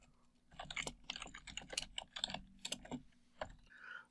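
Rapid clacking of computer keyboard keys while CSS code is typed, a dense run of close, crisp keystrokes in irregular bursts with brief pauses, heard alone without talk.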